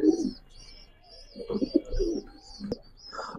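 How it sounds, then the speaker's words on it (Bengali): A large, strong pigeon coos at a pigeon farm with high flyer, racer and fancy breeds, giving close, rolling low coos with a brief sharp click, while higher chirps from other birds repeat in the background. "বিশাল বড় সাইজের স্ট্রং একটা কবুতর"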